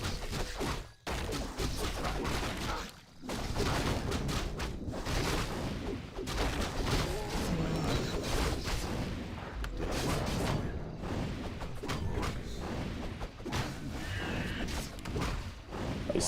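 Riflemen gunfire in a Warcraft 3 battle crackles as dense, continuous volleys of overlapping shots and impacts, busy and loud throughout with only brief dips.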